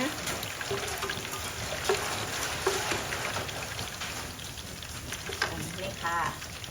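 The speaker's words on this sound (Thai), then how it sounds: "เสียงฝนอาจจะดังหน่อยนะ" Steady rain patters and hisses continuously, with scattered drops and faint clinks of activity nearby.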